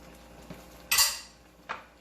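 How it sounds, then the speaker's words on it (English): A utensil stirs garlic shrimp with garlic powder and turmeric in a pan: a soft scrape, then one loud metallic clatter, and a lighter clink shortly after, close and alone. "Give it a stir"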